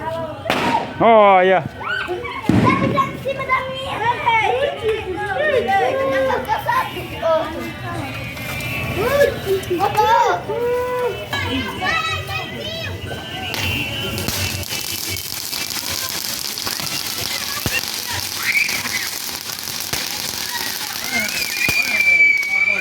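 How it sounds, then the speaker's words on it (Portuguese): Firecrackers and small fireworks go off around a São João bonfire celebration, sharp bangs and crackling bursts scattered irregularly over nearly half a minute while people talk and chatter nearby. "Ninho vai soltar uma bombinha"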